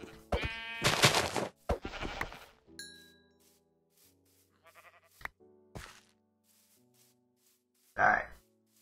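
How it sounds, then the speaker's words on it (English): Sheep bleat in the video game Minecraft, with a few loud, close bleats near the start and another short one near the end, between quieter game clicks and thumps. "Hey, sheep."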